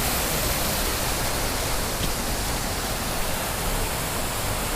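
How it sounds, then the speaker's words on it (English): A forest waterfall roars in a constant, broad rushing wash of water, loud and close, with no voices over it. "So there's the waterfall."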